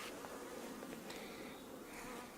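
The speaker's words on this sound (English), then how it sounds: "the bees are there." Honey bees swarm around a newly installed beehive during a first inspection, their dense, continuous buzz steady and close throughout, with no voices.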